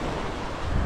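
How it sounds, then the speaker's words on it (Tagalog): Sea waves washing on a shore where fishermen haul nets, a short burst of steady surf rush with wind noise on the microphone, no voices. "Ngayon dito tayo sa dagat nga, tayo mamumukot muna."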